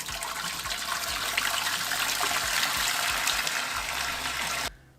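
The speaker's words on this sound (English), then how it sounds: "Set your pot on a medium high and add your water." Water pours steadily into a cooking pot on the stove in a loud, continuous gushing stream that cuts off abruptly near the end.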